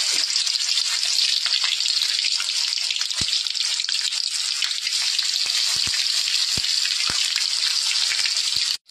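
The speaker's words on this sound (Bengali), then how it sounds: "তেলটা গরম হয়ে গিয়েছে। আমি এবার এই যে একটা একটা করে ছেড়ে দেব।" Loud, steady sizzling of chicken pieces frying in hot oil, with occasional sharp pops and crackles throughout.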